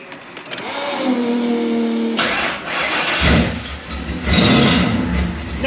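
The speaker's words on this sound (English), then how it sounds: "Let's see how many pumps it takes to crank her up." A carbureted Ford F100 engine cranks over with a whirring starter, then catches and fires up into a rough, loud running idle with a couple of revs, close by.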